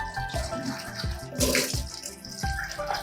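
Quail birds being washed by hand in a basin of water while preparing a quail fry, with splashing and sloshing in a steady rhythm of repeated dunks, close and fairly loud.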